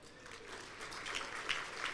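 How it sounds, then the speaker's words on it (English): Scattered audience applause at a club Christmas meeting, a short burst of moderate clapping from a room of people, fairly distant and without speech over it. "just go ahead and clap, why not?"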